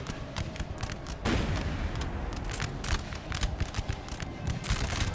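Cannon artillery booms in Napoleon Total War, a Napoleonic battle game, with repeated sharp blasts and a crackling gunfire din over a dense, continuous battlefield roar.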